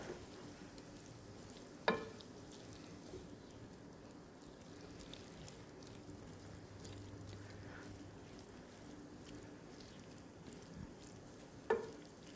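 Zucchini noodles softening in a hot pan: a faint, steady low sizzle runs throughout, broken by two brief clicks of a utensil.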